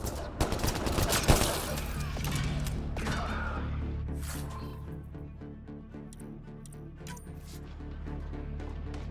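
Enemy gunfire in the sci-fi shooter Mass Effect Andromeda: a dense loud volley of shots and impacts up front, then sporadic cracks over a sustained rumbling battle din.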